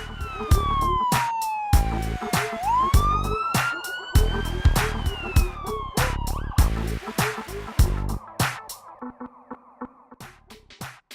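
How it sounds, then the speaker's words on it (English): A loud wailing ambulance siren rises and falls repeatedly up close, with pulsing background rhythm beneath it. "Ambulances are large vehicles with bright flashing lights and a loud siren."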